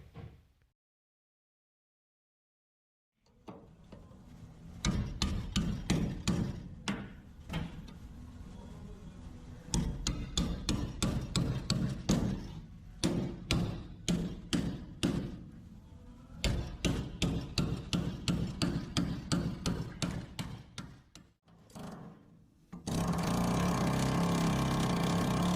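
A hammer striking a car bedside panel by hand, repeated sharp metallic blows in bursts with short pauses, loud and close, ending with a steady continuous noise.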